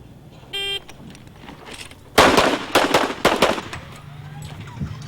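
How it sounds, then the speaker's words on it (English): A shooter in an IDPA pistol match fires from concealment. A short electronic timer beep is followed by a rapid string of loud gunshots in two tight clusters, echoing outdoors and fading into quiet. "Next up here is John Sale, shooting from concealment."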